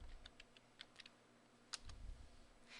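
Keys on a computer keyboard tapped in faint, scattered clicks in a quiet room, with a few irregular keystrokes spread over a couple of seconds.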